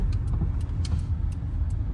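A broken-down car rattling and clunking while being driven, a steady near road and engine rumble with repeated short metallic knocks throughout.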